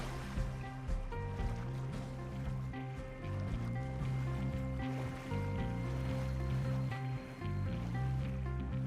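Arthur swimming through water in Red Dead Redemption 2, with steady sloshing and lapping water over a rumbling, continuous game soundscape of tones and ambience, loud and constant throughout.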